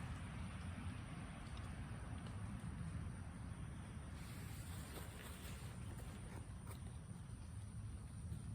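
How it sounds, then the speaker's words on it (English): Steady wind roaring and buffeting across the whole stretch, a constant broadband rush with low rumble and no voices. "It's windy."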